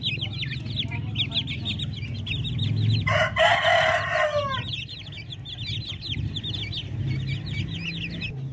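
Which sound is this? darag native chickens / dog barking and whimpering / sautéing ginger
darag native chickens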